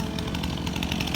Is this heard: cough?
no